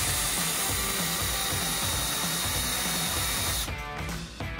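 Air-driven pressure gun working on a 1929 Pontiac engine during an overhaul, a loud continuous hiss over a pulsing mechanical chatter that cuts off abruptly near the end, close by.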